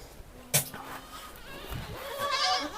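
Adult goats bleat nearby, a short cry followed by a longer wavering bleat, over a quiet farmyard background.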